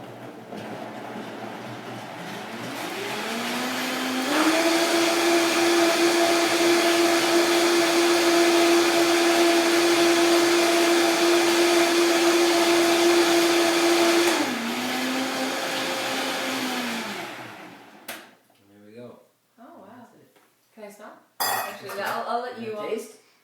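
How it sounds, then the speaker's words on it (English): A blender whirs up, holds a steady high motor whine for about ten seconds, then spins down; brief clatter and handling noises follow. "Pop it up, blend it. My super duper blender."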